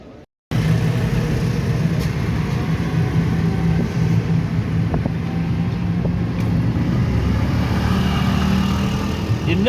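Tuk-tuk auto rickshaw moving through Delhi traffic, a loud continuous engine drone with a steady low hum, heard up close from inside after a brief quiet start.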